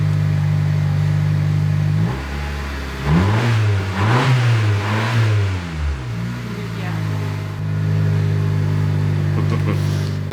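A 10th gen Honda Civic fitted with an Invidia N1 exhaust idles, then revs up sharply several times in quick succession, close and loud, before settling back to a steady idle.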